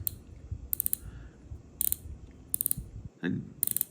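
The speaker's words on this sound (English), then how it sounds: "drag clicker is pretty loud" Quick bursts of sharp ratcheting clicks from a Kingdom Micro fly reel's drag clicker repeat several times in short runs over a low rumbling background, fairly close and crisp.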